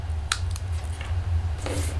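Scissors snip paper in a few quick, crisp cuts close by, set against a steady low hum.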